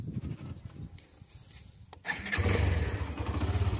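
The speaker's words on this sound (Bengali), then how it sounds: "এক্সোস্ট সাউন্ডটা একটু প্লিজ শুনে নাও তোমরা।" A Hero Xtreme 125R motorcycle is quiet and rustling at first, then its engine fires up about halfway through and settles into a loud, close, throbbing exhaust idle; no speech.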